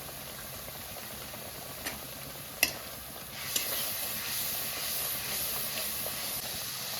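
Onion paste and a little turmeric sizzle in hot oil tempered with nigella seeds, the start of a tengra fish curry. A steady, fairly quiet hiss runs throughout, broken by a few sharp clicks and pops, with no talking.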